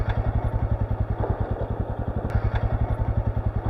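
A dirt bike engine chugs at a low, steady, thumping idle, close up and loud on a dirt track near Queenstown, New Zealand, with no voices.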